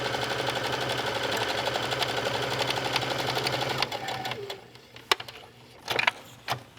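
A sewing machine stitches a seam on a cross-body bag, running as a steady close mechanical whir for about four seconds before it stops, followed by a few sharp clicks and taps of handling.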